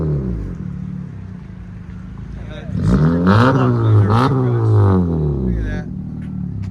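A 2024 Honda Civic Sport 2.0L on straight pipes idles with a raspy drone, then blips into several sharp revs that rise and fall in quick succession, loud and close, before settling back to idle.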